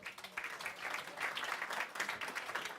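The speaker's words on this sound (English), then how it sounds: "Real great applause to you." Audience applause at the SME Star Awards Ceremony 2018, a brief, faint patter of many hands clapping at a steady rate, heard from some distance in a hall.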